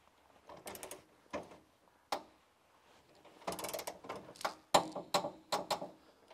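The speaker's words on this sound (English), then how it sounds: "what we're doing is just torquing this down" Gooseneck hitch bolts on an Andersen hitch being torqued down with a wrench to 70 foot-pounds, giving scattered close metallic ratcheting clicks and creaks in uneven bursts with quiet gaps between them.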